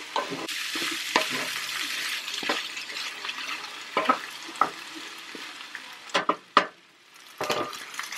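Potatoes frying and sizzling in a hot pan in a home kitchen, a steady broadband crackle with repeated sharp scrapes and clicks as they are stirred, close and fairly loud, no talking.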